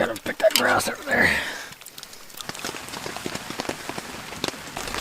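Rain pattering on a hot tent during a camping rainstorm, a steady dense drumming of drops after a brief opening burst of breathy, rustling noise close by.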